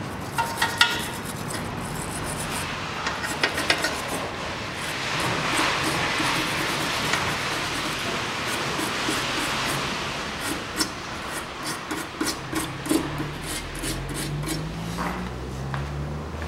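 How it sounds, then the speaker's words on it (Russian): Threads on a suspension part are cleaned during a ball joint replacement on a 2012 Kia Sportage 2.0, giving a continuous, close, gritty scrubbing noise with scattered small metallic ticks. "Немножко почищу резьбу."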